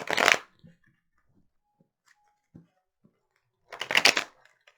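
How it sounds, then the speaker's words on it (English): Two bursts of Rider-Waite tarot cards being shuffled, one at the start and one near the end, with quiet gaps and small taps between them. "So I hear 3 shuffles."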